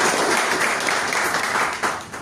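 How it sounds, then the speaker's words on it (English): Steady applause fills a Toastmasters club meeting, dense and continuous clapping from an indoor audience throughout, with no talking over it. "Let's give a great round of applause to Mohammed."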